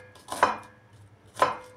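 Two crisp knife chops through onion on a cutting board, about a second apart, close and clear in a quiet kitchen.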